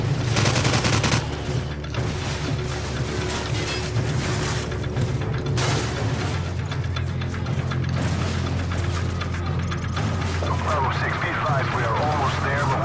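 Gunfire in the Call of Duty Modern Warfare video game, dense and continuous mechanical shooting and weapon clatter throughout, with game music and effects underneath and a player's voice speaking over the action.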